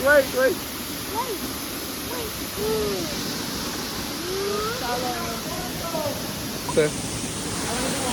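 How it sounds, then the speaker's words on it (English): A steady broadband roar of a large waterfall in Belize fills the background while people chatter and call out over it. "we're at the largest waterfall"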